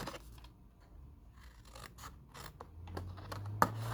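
Scissors cutting out paper boxes for a papercraft project, faint close snips and paper rustling in an irregular run, ending in a sharper click.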